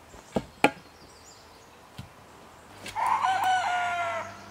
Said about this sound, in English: Crazy roosters.